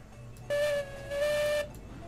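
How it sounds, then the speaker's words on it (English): A steam locomotive whistle sounds in the railroad game Railroads Online as two clear blasts, a short one followed by a longer one, over a quiet background hiss. "I always forget to whistle when I stop."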